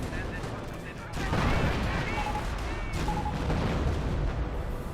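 Battle gunfire in Company of Heroes 1, with dense crackling shots and booms over a continuous noisy battlefield din, mixed with faint in-game voice callouts.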